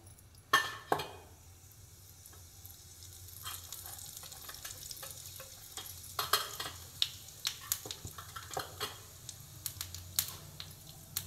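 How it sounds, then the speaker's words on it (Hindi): Cumin seeds crackle and sizzle in hot oil, with sharp popping bursts and a steady hiss, the pops growing busier toward the end. "जीरा भी तड़क गया है"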